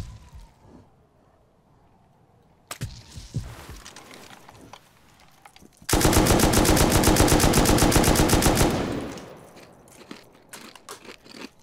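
Gunfire in the video game Rust: a few scattered shots, then a sustained, loud burst of rapid automatic fire lasting about three seconds before fading into sparse shots and ambient noise.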